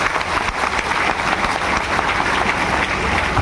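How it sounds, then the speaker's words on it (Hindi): A crowd at a live meeting claps in a dense, continuous burst of applause that holds steady throughout. "देखिए एक जोरदार ताली इन सभी के लिए"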